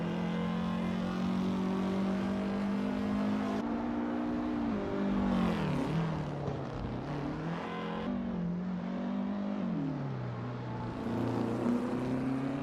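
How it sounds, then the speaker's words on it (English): Video game race car engines whine and rev continuously, pitch rising and falling as cars accelerate and shift around a track, steady and moderately loud. "the AI car zooming around the track"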